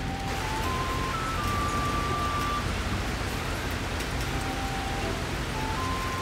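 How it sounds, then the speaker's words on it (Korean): Heavy rain falls steadily outdoors as a dense, even hiss throughout, with faint tonal whines drifting in the background. "비 너무 많이 오지? 이래서 못 나가는 거야"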